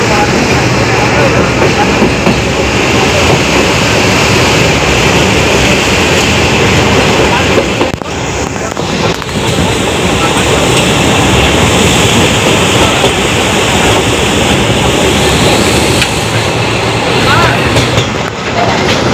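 A train crosses the Farakka river bridge, its loud, close, continuous rumble and rattle filling the whole stretch, with only a brief dip in intensity midway before the steady roar resumes.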